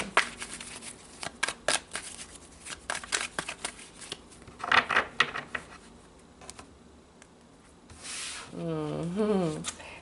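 Tarot cards being shuffled, a run of quick papery riffles and flicks at close range, with a short stretch of speech near the end.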